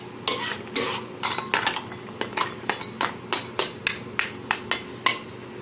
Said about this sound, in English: This mussel will take a very short time to cook. The moment it opens up means it's cooked.